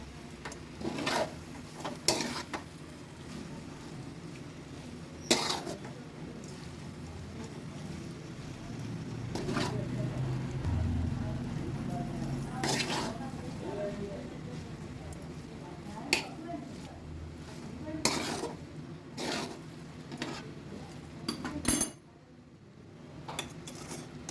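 Homemade noodles stirred in a pan with fresh coriander, giving repeated scraping and clinking utensil strikes against the pan over a low continuous kitchen background, close and moderately loud.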